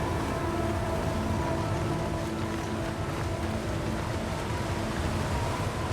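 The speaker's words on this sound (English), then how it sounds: "Okay, I hear a waterfall." Waterfall in the video game The Long Dark, a steady broadband rushing roar that holds at a constant level for the whole stretch, with no talk over it.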